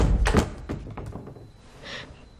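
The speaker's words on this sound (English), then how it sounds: "Why are you banging on the wall?" A series of dull thuds and knocks against a solid surface comes in an irregular burst, then fades into quieter rustling.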